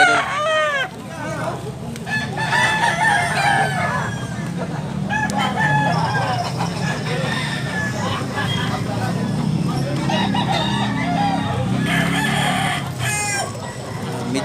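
A crowd of fighting roosters at a farm in Tabunok, Cebu, keeps up steady crowing and clucking from many birds at once, near and far, with people talking in the background.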